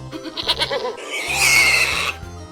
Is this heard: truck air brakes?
no